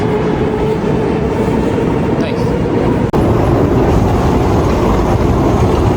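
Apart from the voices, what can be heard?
Moscow subway train at Revolutionary Square Station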